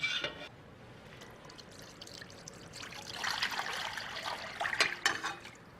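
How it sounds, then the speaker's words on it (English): Brine poured over a lean brisket cut from the breast of the cow, a soft trickling of liquid that grows into a fuller splashing pour in the second half, fairly faint and alone with no talk. "And now we pour over that our brine."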